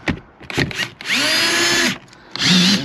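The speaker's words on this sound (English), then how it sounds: "Grab our drill and our drag." A drill cuts out the windshield of a 2021 Subaru Forester in short, rattly bursts, then settles into two sustained, loud high-pitched whines that spin up and wind down.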